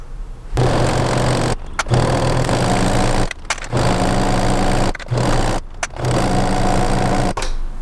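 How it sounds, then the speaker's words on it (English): Sewing machine stitching seams on an upcycled old bedsheet: loud, close whirring runs of stitching broken by four or five short pauses, steady motor hum, no speech. "Now let's sew it."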